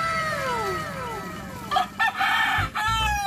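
A rooster crows loudly nearby, a long drawn-out call followed by a few short clucks.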